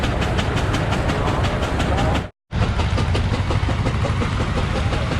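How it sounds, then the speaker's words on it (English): An old antique tractor engine idles at an antique machinery show, giving a loud, close, steady chugging clatter with a brief dropout midway. "The old tractor is just sitting there chugging right along."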